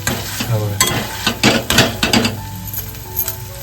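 Tomatoes and spices are mashed and stirred in a pan for a dried-fish (salted surmai) curry, with close scraping and soft squelching strikes in an irregular rhythm over a light sizzle.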